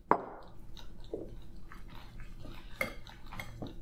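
A spoon works dry ingredients into a very thick gluten-free blackberry oatmeal pancake batter in a bowl, giving soft scrapes and a few light clinks against the bowl at an irregular pace, close and quiet.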